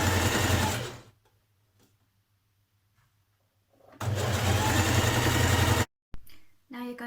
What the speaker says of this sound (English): feed it under your machine so it's open